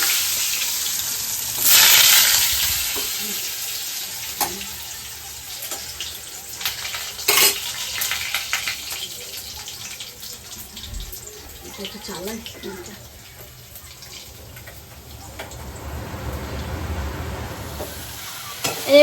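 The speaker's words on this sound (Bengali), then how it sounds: "এই যে আলুগুলো একটু ভেজে নিই" Potatoes fry in a pan with a sustained sizzle, broken by stirring scrapes and a few sharp clatters, while someone talks at times nearby.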